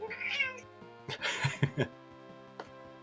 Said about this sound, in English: Cheddar, as always, the loving kitty